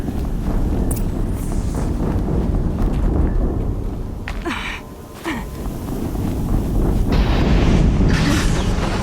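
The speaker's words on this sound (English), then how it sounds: "Another explosion." A loud explosion in the video game Horizon Zero Dawn, heard as a heavy, continuous roaring rumble with a couple of sharper bursts midway and no talking.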